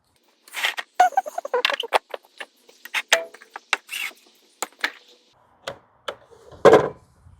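A wooden board is cut on a diagonal for bracing in a firewood shed build, producing a series of close, sharp knocks and scraping strokes in an uneven rhythm, followed by scattered taps and one louder final thump.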